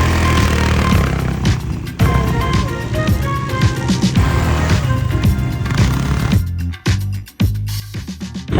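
A Nissan Patrol pickup drives over desert sand near Dubai, its engine and tyre rumble steady and loud throughout, broken by a few sharp knocks and bumps near the end.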